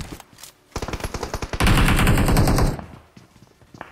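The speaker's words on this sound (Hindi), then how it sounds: "पीछे की साइड से कोई फायर कर रहा था।" Automatic gunfire in a battle royale video game: a rapid string of close shots builds into a dense, loud sustained burst lasting about a second, then stops abruptly, leaving quieter scattered game sounds.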